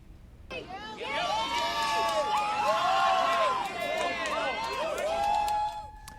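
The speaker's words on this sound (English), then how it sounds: "You just heard that crowd cheering to the reaction, the news that the former president was found guilty" A crowd gathered outside the courthouse as the guilty verdict against Donald Trump comes in erupts in loud cheering and excited shouting, many overlapping voices rising and falling for several seconds before easing off.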